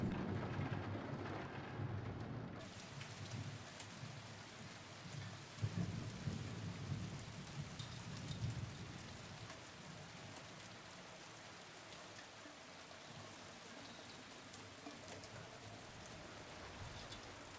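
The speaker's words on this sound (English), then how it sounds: "if you go up onto the roof, you hear the rain hitting the windows in the building" Steady rain pours against the windows of a building on a rooftop in the Silent Hill 2 Remake, a dense, continuous wash of patter with low rumbling beneath, loud and unbroken with no voices.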